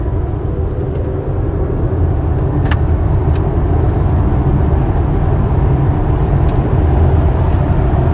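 A car travels along a road, giving a steady loud rumble of engine and tyre noise that holds unbroken throughout, with no talking.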